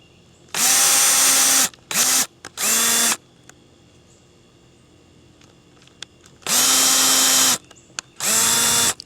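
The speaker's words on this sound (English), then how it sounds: "And just gonna pre-drill them." A power drill pre-drilling wood for a garden potting bench whines in five loud bursts, two longer runs and several short stabs, separated by quiet pauses.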